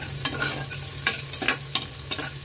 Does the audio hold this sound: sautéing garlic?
yes